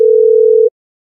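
A single steady electronic phone tone during a call, one loud unbroken beep lasting under a second before silence.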